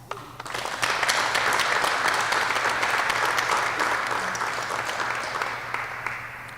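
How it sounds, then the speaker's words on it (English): An audience applauds graduates receiving their wings and insignia at a U.S. Army aviation graduation ceremony. The clapping is sustained, even and full-bodied, a large crowd applauding steadily throughout. "please help me in congratulating these graduates receiving their wings and insignia today with another round of applause."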